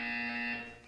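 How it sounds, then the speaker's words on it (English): A buzzer in the video game Portal 2 sounds as one sustained electronic drone with a harsh, alarm-like edge. It is fairly quiet and fades out near the end. "You will hear a buzzer."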